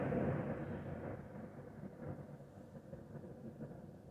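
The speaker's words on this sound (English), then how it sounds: "it is raining and now it is thundering" Low rolling rumble of thunder, loudest at the start and slowly fading into a distant grumble, with faint rain hiss beneath.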